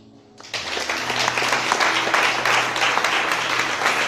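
Church congregation applauding and cheering for Jesus during worship, a dense, sustained wall of clapping and crowd acclaim that swells in after a brief quiet start and holds loud throughout.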